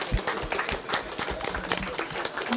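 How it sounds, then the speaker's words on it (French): Applause in a school setting after a middle school AI week presentation by students: scattered, uneven hand claps from a modest crowd, with sharp individual claps popping out over a softer clapping bed. "Je crois qu'on peut applaudir Nao et les élèves aussi."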